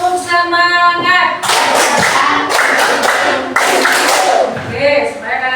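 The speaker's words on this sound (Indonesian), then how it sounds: "Ulangi tanpa saya, tepuk semangat." Students in a classroom repeat a rhythmic group clapping chant without the teacher, producing loud clustered bursts of clapping in three or four segments, with spoken voices before and after.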